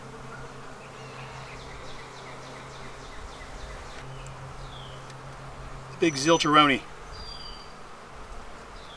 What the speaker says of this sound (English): Handful of drones, a lot of bees